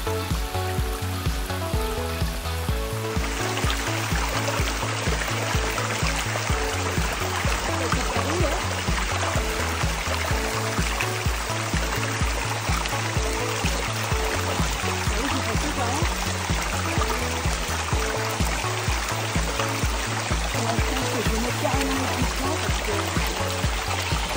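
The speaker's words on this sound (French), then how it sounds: "Le chemin est dans le torrent" A mountain torrent runs along a muddy, cow-trampled hiking path, its water a loud, continuous rushing wash close by, running unbroken with no talking and a low steady thumping underneath throughout.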